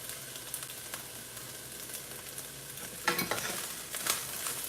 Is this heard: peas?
yes